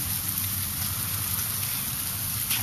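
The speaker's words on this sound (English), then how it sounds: "I guess freezing rain pellets are close enough" Freezing rain pellets fall outdoors in a steady, even patter and hiss that holds at a constant level throughout, with no voices.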